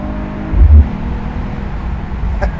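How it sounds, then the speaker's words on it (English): A 2026 Mercedes-Benz CLE 53 AMG Cabriolet driving in Sport Plus mode, its engine a steady low rumble heard from the cabin, rising briefly into a louder surge before settling back to a constant drone. "So we'll see just how different this vehicle sounds in sport mode here."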